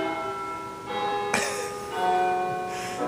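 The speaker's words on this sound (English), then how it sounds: "I like that bell." A church bell rings out in a steady series of tolls, fairly distant and clear, each strike leaving a long ringing decay, with a brief throat-clearing cough in between.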